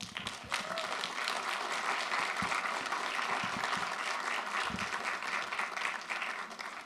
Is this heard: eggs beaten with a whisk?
no